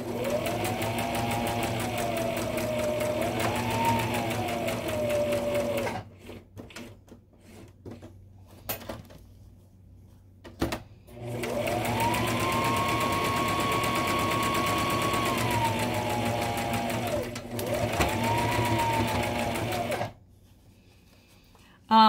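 A sewing machine stitches fabric mask pieces together in long, steady whirring runs with rising and falling motor pitch, separated by short pauses and a few clicks, close and fairly loud.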